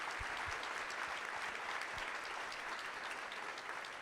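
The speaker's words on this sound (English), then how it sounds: "big round of applause for Jim for stepping in at the 11th hour" A breakfast event audience gives a round of applause, an even, sustained patter of many hands heard at a moderate distance, with a few sharper close claps standing out early on.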